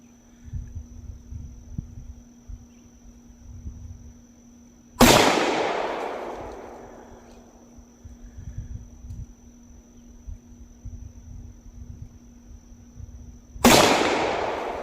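Two sharp, loud shots from a Tisas 1911A1 pistol crack at an outdoor shooting range, several seconds apart, each followed by a long echoing decay over quiet ambient noise and a steady tone.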